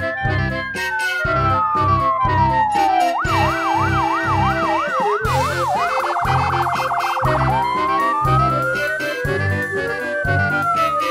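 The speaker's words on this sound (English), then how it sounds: "Now he is driving the ambulance." A loud ambulance siren with a wailing tone that shifts into a fast yelp, then slow sweeps, over steady vehicle noise.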